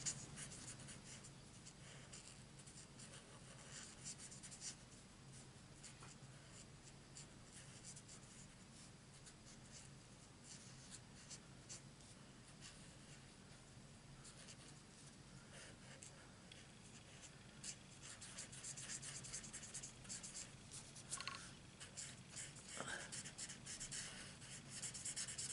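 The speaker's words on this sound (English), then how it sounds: "I'm just going to colour this in" Marker pen colouring in on paper, a continuous close scratchy rubbing with quick back-and-forth strokes throughout, no talk.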